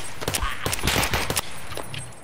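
Gunfire in an Escape From Tarkov match comes as a dense, rapid burst of close shots over about a second, then trails off into quieter ambience.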